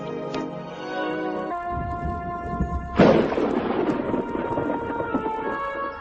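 A deep thunder crack bursts in midway and rolls on as a rumbling boom, rising over a sustained musical backdrop of held tones.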